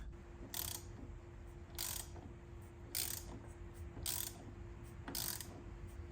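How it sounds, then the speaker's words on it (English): A ratchet driving a T50 bit loosens the main bolt of a car steering wheel on a C7 Corvette Z06. Five quiet, evenly spaced ratcheting bursts come about once a second over a steady background hum. "A T50, we're gonna get this main bolt out so we can take the wheel off."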